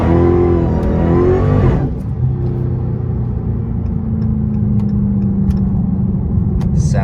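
Dodge Hellcat with an aftermarket intake accelerating hard, a loud deep engine roar that climbs in pitch and then settles into a steady heavy rumble, close and continuous throughout.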